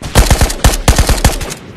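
Rapid gunfire in the VR game Ghosts of Tabor, a close, loud burst of about a dozen sharp shots in quick succession.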